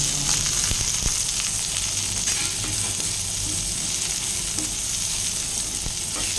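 Garlic, onion and ginger sauté in a pan with a loud, continuous close sizzle, broken now and then by the scrape and clatter of stirring.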